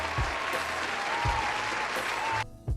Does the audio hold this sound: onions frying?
no